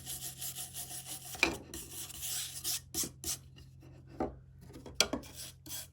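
A wood rasp files across wood in close, scratchy strokes with irregular rhythm and short gaps, fairly quiet and with no voices.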